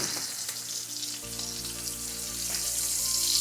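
Ribeye steak sizzles steadily in a pan with butter and garlic, a dense continuous hiss that holds close and grows slightly louder toward the end, with no voices.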